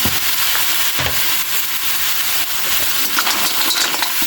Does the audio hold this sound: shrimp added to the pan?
yes